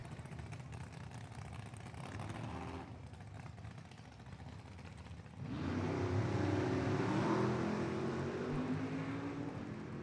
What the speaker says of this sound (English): Ooh, Jason got the jump off the starting line